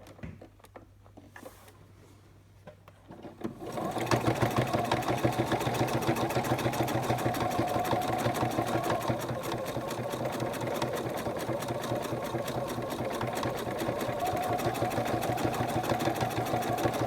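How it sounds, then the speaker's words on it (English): A sewing machine stitches around a cargo pocket, starting after a few seconds of quiet handling, then running in a fast, steady mechanical chatter close by for the rest of the time. "now sew around the cargo pocket with a seam allowance of 1/8"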